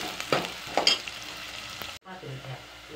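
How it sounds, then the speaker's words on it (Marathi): Onions frying in oil until golden, a close steady sizzle with a few stirring scrapes, cut off abruptly partway and then continuing more quietly. "कांदा चांगला गोल्डन कलरवरती चांगला तळून घ्यावा."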